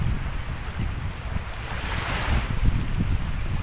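Strong habagat monsoon wind sweeps along a seaside shore at sunset, a steady roaring gust buffeting the microphone over the constant wash of surf, with no voices.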